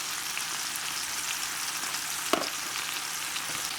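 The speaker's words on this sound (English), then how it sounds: "And I've got these portobello mushrooms, and I'm just going to throw them inside here." Portobello mushrooms frying in a hot pan, a dense steady sizzle heard close and even throughout, with one brief clink partway through.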